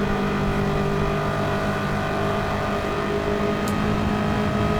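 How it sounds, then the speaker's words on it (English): Race cars in a Gran Turismo 7 Trans-Am event at Daytona drone continuously with engine noise throughout, steady and loud with no pauses or talk. "So E-Bulk, Chev, Artsy and Player, they are burning rubber"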